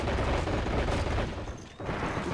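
Gunfire in the WWII strategy video game Men of War Assault Squad 2, a dense, continuous rattle of shots and rumbling battle noise, loud and close, briefly dropping away before resuming.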